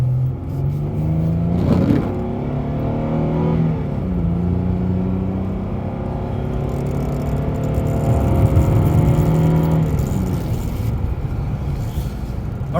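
A 2008 Dodge Charger with about 110,000 on it runs steadily up close, its engine note swelling as it revs around the two-second mark and again near ten seconds, then settling back into a smooth, continuous drone.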